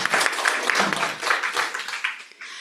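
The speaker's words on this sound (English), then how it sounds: "181, I think that deserves an applause." Audience applause at a school board meeting, a burst of many hands clapping at moderate loudness that thins out toward the end, mixed with some talk.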